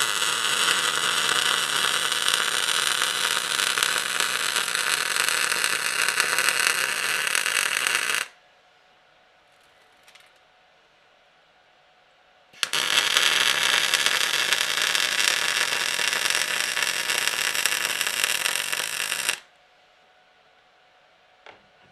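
MIG welding tacks a long-crank adapter onto an LS engine for a 4L60E transmission swap: two long, steady bursts of loud crackling arc hiss, each lasting several seconds, separated by a quiet pause with no talk.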